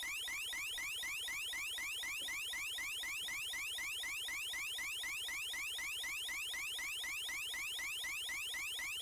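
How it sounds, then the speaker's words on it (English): Electronic UFO alarm from Mega Man: The Wily Wars, a loud, continuous warbling siren that repeats a fast rising sweep over and over like a car alarm, unbroken and alone. "Now the UFO sound really sounds like a car alarm."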